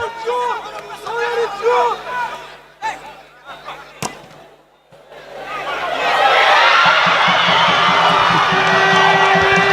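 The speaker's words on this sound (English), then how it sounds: "You can hear the reaction from the crowd." A football crowd at a Saint Lucia semi-professional league match erupts at a near goal, a broad, loud roar of cheering that swells in midway and holds to the end, following stretches of commentary and shouting.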